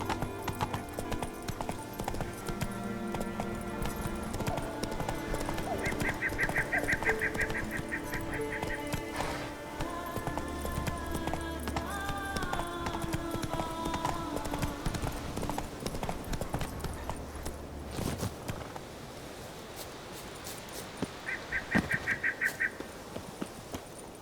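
Roach the horse's hooves clip-clopping steadily in The Witcher 3, a continuous close rhythmic trot under game music with occasional tonal effects.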